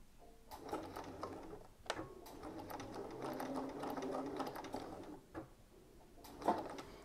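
A sewing machine stitches quilt binding with a 3/8 inch seam allowance and then backstitches in reverse, whirring steadily at close range between short clicks and knocks, fairly quiet overall.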